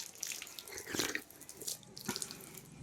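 Water splashes from a solar-powered tap at a block office compound in Purulia, a close, uneven gush with a few louder bursts as the flow is caught and tasted.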